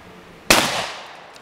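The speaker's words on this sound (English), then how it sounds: "Guns are freaking loud." A shotgun fires at a target at an outdoor shooting session. One sharp, loud blast rings out and then fades in a short rumbling tail.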